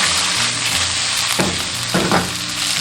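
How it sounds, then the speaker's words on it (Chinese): Pomfret fish bones and head pieces fry in hot cooking oil with a steady loud sizzle and crackle throughout, with brief bursts of stronger spattering as pieces shift in the pan. "锅中倒食用油，油热过后下入鱼骨、鱼头片。"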